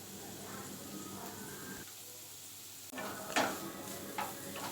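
Long-cut carrots and onion stir-fried in a pan for homemade chicken chowmein, making a faint sizzle with a few soft scrapes and taps of the spatula near the end.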